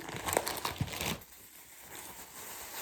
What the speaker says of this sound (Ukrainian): мусорні пакети